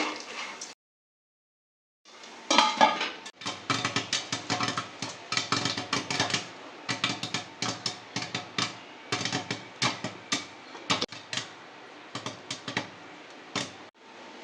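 Popcorn is stirred in a pot on a gas stove, a busy run of rapid clattering taps and scraping knocks close up, irregular and continuous after a brief pause, with no voices.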